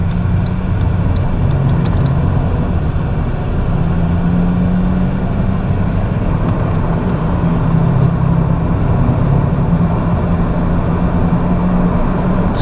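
Car joining the M1 motorway near City North Hotel in Ireland, heard from inside the cabin as a loud, steady low engine and road rumble with constant tyre noise and no talking.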